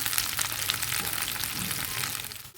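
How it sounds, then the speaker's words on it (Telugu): Ripe red chillies fry in a kadai with a loud, dense, continuous sizzle and crackle of hot oil, heard up close with no talking. "ఫస్ట్ పండు మిరపకాయలు వేయించుకుంటున్నానండి"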